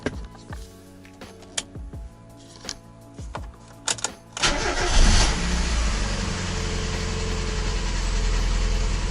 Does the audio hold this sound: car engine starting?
yes